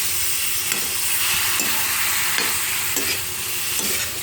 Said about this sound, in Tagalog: Halo-halo. Haluin natin siya.